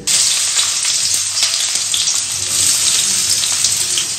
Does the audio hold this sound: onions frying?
yes